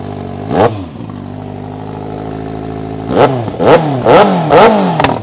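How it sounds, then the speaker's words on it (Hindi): A Kawasaki Ninja ZX6R with stock exhaust idles with a deep rumble, then its exhaust barks through one sharp rev and a rapid burst of four loud throttle blips. "ये दिल्ली की इकलौती ऐसी बाइक होगी जो स्टॉक एग्जॉस्ट में ऐसा साउंड देता है।"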